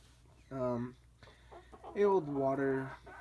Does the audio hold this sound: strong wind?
no